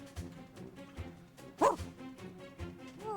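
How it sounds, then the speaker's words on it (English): Dogs bark and yip in a video game, several short barks spaced irregularly and heard at a distance, fairly faint, with one louder whimpering yelp in the middle. "Pickles hears the barking of dogs in the distance."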